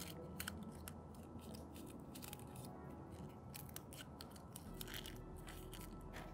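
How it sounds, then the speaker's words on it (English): Scissors cutting through red paper folded several times into a petal shape, with a quiet, steady stream of small crisp snips and crunches close by and no talking. "And cut the shape of a petal"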